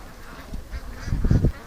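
Agitated ducks, including Muscovies, call from the water of a lake in a short burst of nasal honks and quacks that swell louder toward the end, heard fairly close over a low outdoor background.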